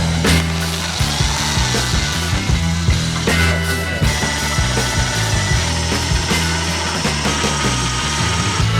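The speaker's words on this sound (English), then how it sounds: "switch to the electric drill, stop the hammer action" An electric drill, hammer action off, whirs steadily into wood, loud and close, its pitch shifting slightly as the bit bites and grinds.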